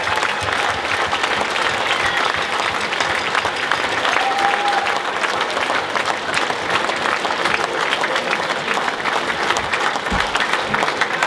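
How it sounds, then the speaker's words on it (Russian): Concert audience at a community organization's show applauds warmly and continuously, a loud, sustained wash of clapping from many hands with no break. "Давайте встретим их также аплодисментами."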